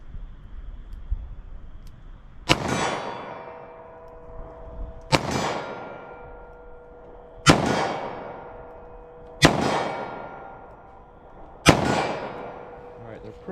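Five .38 Special revolver shots fired at a gel target 25 yards away boom out one at a time, spaced about two seconds apart, each a sharp loud crack followed by a ringing decay outdoors.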